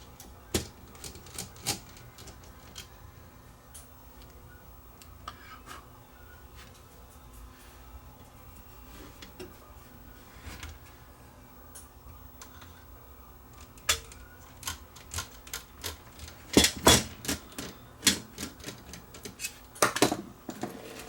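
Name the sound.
Sony DSR11 DVCAM deck mechanism trying to load a tape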